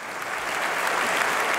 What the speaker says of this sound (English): Her name met with an extended round of applause.